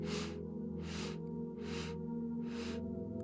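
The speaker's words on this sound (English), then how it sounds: "Inhaling 4 sniffs." Four short, evenly spaced sniffs through the nose, close and distinct, over a faint steady tonal hum.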